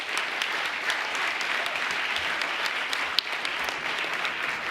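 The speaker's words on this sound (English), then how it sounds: "Could everyone please give our parents a round of applause?" Sustained applause from a large audience honoring parents at a high school senior salute ceremony, steady and dense throughout with no speech over it.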